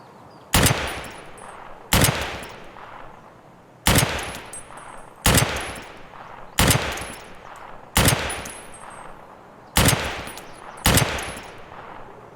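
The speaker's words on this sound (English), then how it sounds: "I'm not used to shooting a PSO sight on an SVD with this round at this distance." Loud SVD rifle shots fired through a PSO scope in Escape from Tarkov, about eight sharp reports spaced at irregular one-to-two-second intervals, each with a ringing tail, no talk.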